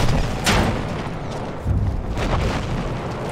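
Explosion of a grenade in the World War I shooter Battlefield 1, a deep rumbling blast that swells near the middle and lingers among continuous battlefield noise and distant gunfire.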